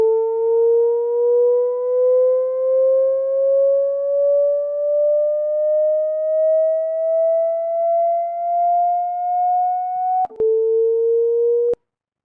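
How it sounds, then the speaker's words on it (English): A pure electronic Doppler tone with faint overtones glides slowly and steadily upward in pitch for about ten seconds. It then drops abruptly to a lower steady note and cuts off. "this is how the Doppler noise sounds like"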